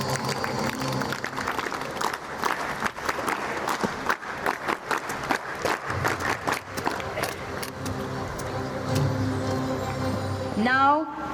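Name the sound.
audience applause at a school ceremony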